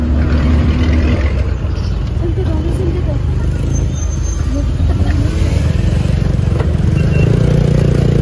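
Riding in a jeep through traffic, a constant loud engine rumble and road noise with passing vehicles and faint voices mixed in.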